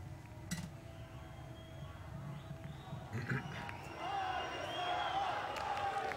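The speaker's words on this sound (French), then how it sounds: "dès que les applaudissements vont baisser un petit peu d'intensité" Large crowd at Netanyahu's 2015 Israeli election night victory rally in the Tel Aviv exhibition grounds, sustained applause and cheering swelling in the second half, heard from a distance under a broadcaster's voice.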